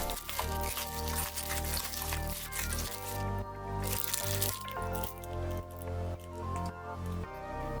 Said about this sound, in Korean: 육회용 소고기 100g 기준으로 소금 1티스푼, 후추, 설탕 반 테이블스푼, 다진 마늘 1티스푼, 참기름 1티스푼, 그리고 잘게 썰은 쪽파를 넣고 잘 버무려 줍니다